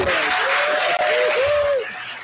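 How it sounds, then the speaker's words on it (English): Applause from a crowd at a school board meeting fills the room, with a few whoops rising above the clapping before it thins out near the end. "Can we clap it up for her?"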